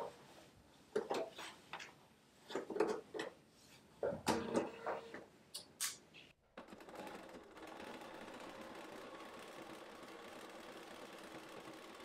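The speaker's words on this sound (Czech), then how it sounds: "A tady si ten šev opět jednoduše prošijeme." After a few seconds of scattered clicks and handling sounds, a sewing machine starts up. It hums steadily and close while stitching a seam on the crotch gusset of a pair of panties.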